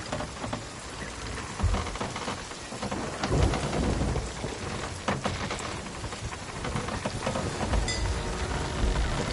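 Heavy rain falls on the open sea in the pirate game Sea of Thieves, a dense, steady hiss with low rumbling swells underneath, continuous and enveloping with no voices.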